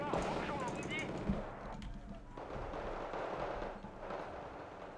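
Strela anti-air missiles launch in Wargame: Red Dragon, a distant, faint burst of firing and rumbling blasts heard in a quiet battlefield scene, with a voice talking over it.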